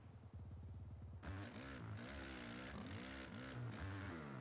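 Motorcycle engine in the dirt bike racing game MX vs ATV Legends, a steady buzzing drone that rises and falls with revs as the bike rides the track, loud and continuous after a sudden start.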